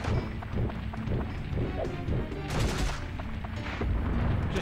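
Bombs going off in the video game Dark Cloud, a dense run of booming, crashing blasts piled close together with a short voice over the top.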